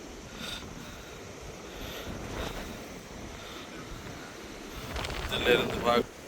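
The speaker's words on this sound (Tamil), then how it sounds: "காத்தடிக்குது காத்தடிக்குது" Strong wind gusting at a seaside spot, a broad rushing roar with microphone buffeting that swells toward the end, heard close and continuous.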